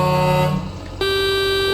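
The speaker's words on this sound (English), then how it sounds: "That air horn must sound throaty. It's a meteor horn." A loud, throaty truck meteor air horn in American Truck Simulator blasts in two tones: a low blare that cuts off briefly before a higher, steady honk.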